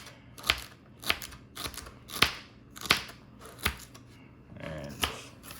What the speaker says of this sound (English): Sometimes I'll further chop up what I got here.